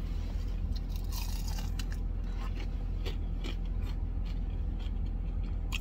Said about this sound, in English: It's crunchy. I don't know if you could hear that.